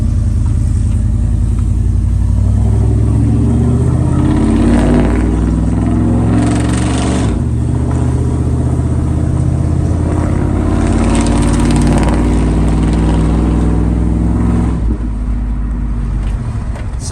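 A Chevrolet Silverado with a 5.3 V8, long tube headers and full 3-inch Magnaflow exhaust idles and revs, a loud, deep, steady rumble that swells and settles, close and alone.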